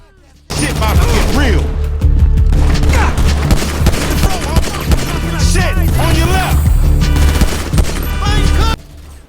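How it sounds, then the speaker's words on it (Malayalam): Dense, sustained gunfire in Grand Theft Auto V, with rapid bursts of automatic weapons and scattered booms running loudly and almost without pause for around eight seconds. "ഇവരുടെ ടോപ്പിൻ്റെ അവിടെ നിന്നൊക്കെ വെടിവെക്കാനാണ്"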